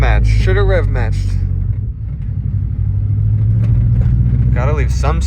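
A station wagon's exhaust drones low and steady inside the cabin while driving, a constant booming hum with road rumble, and someone talks over it at the start and end.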